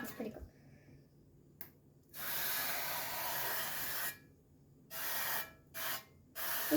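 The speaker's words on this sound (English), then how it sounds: "A little bread pan and olive oil spray" Olive oil cooking spray hisses in three bursts onto a small bread pan, first a long steady spray, then two or three shorter squirts, close and fairly loud in a quiet kitchen.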